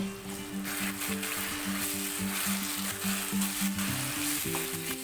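Potato and cauliflower stir-frying with chilli sauce in a hot pan, a steady close sizzle with rhythmic scraping and stirring throughout, no voices.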